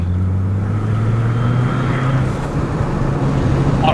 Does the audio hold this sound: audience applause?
no